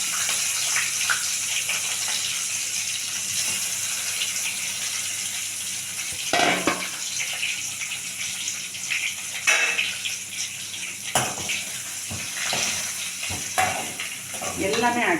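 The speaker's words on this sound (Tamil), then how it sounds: "இப்போ நம்ம ஒவ்வொன்றா இந்த எண்ணெயில் அப்படியே லைட்டாக ரோஸ்ட் பண்ணிட்டு" Brinjal and broad beans roast lightly in oil, giving a steady soft sizzle with scattered stirring scrapes and clinks throughout.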